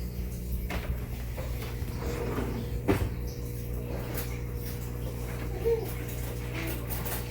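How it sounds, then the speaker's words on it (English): Cabinet doors in a home kitchen shut hard at random, giving a few sharp knocks, the loudest near the middle and a softer one late, over a steady low hum with no talk. "He's just randomly shutting the cabinet doors all hard."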